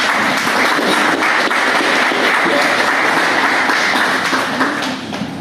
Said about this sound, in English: You all need to clap.